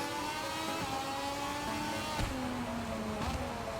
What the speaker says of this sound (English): So I try to have the motorcycle sounds down pretty low.